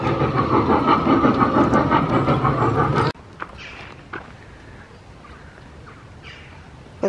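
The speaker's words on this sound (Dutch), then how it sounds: "Gaan we zwaaien naar de trein." A loud train rumbles past close by, then cuts off abruptly, leaving quiet outdoor ambience with a few faint clicks and birds.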